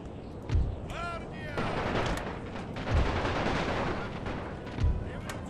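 Gunfire in a World War I video game battle: heavy low booms land roughly every two seconds over a dense, continuous clatter of shots, with a brief whistling sweep early on.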